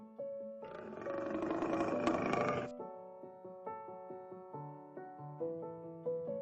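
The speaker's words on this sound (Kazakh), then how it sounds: "Қаншыр." A lioness lets out one loud, rough roar lasting about two seconds over a soft melodic music background, which then carries on alone.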